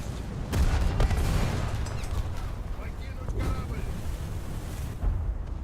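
Naval guns fire during a War Thunder sea battle, with repeated sharp booming shots spaced irregularly over a steady rumbling background of wind and engine noise; a voice talks over the gunfire.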